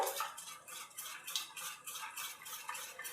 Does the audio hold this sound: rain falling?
no